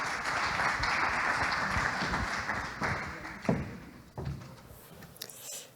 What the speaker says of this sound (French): Sous vos applaudissements, merci mesdames.